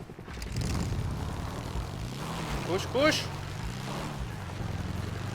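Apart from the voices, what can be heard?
helicopter in GTA V zombie mod video game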